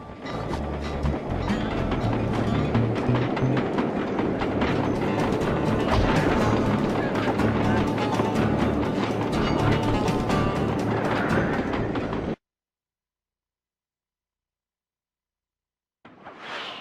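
A train in the Sly Cooper video game rumbles and clatters loudly and continuously with rattling wheel noise for about twelve seconds, then cuts to silence before noise briefly returns.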